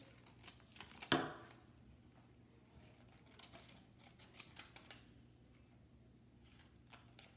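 Quiet, close scissor snips cutting through paper, a few sharp crisp cuts scattered among softer rustling.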